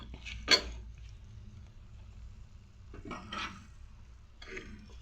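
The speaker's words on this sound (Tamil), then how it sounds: "இப்போ இதை நல்லா மிக்ஸ் பண்ணிக்கோங்க." Chicken being stirred into a tomato-onion mixture in a pan for chicken biryani makes a few faint, scattered scrapes and clinks of a spoon against the pan over quiet background.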